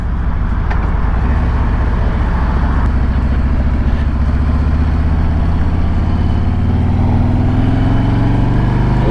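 A Harley-Davidson Road Glide Special with a fixed fairing cruises on an interstate, its engine droning loud and steady under heavy wind and road rumble, pitch rising slightly near the end.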